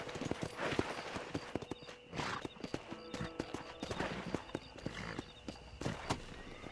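Horse hooves clip-clopping in the video game Red Dead Redemption, a close, rhythmic run of hoof strikes with a short whinny, against a faint outdoor backdrop.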